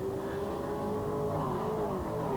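Racing trucks at a Northwest Tour Truck Series season opener on Magic Valley Speedway, a steady loud engine drone with a held pitch as a pack runs together, continuous with no pause.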